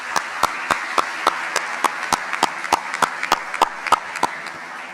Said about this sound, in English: if we can get a round of applause for your parents